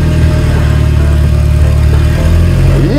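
A car fitted with bicycle wheels drives off with its engine running, a loud, steady, close mechanical drone that holds throughout.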